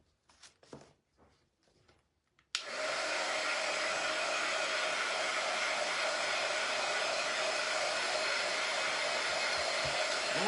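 A hair dryer switches on after a few faint knocks and runs loud and steady, blowing to dry a thin coat of paint on a tabletop project.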